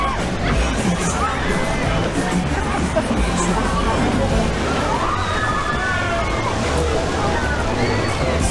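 Water sloshes and sprays continuously on the Rund um den Tegernsee water ride at the Rheinkirmes fair in Düsseldorf, a loud steady wash mixed with crowd babble and riders talking.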